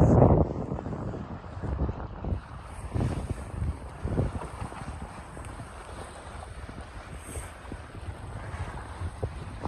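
Sailboat under sail in about 10 knots of wind, with steady wind noise buffeting the microphone over water sounds and occasional creaks and thumps aboard.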